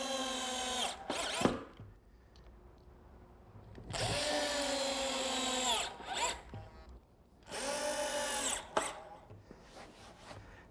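A power drill drives screws into wood while building a picnic table, three loud whirring bursts with short pauses between, each ending in a quick stop, close and alone.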